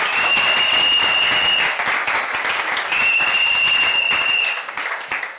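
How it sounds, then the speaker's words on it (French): A church congregation applauds loudly and steadily, a dense wash of many hands clapping close by with a whistle-like tone over it, tapering off near the end. "Est-ce qu'on peut acclamer la parole?"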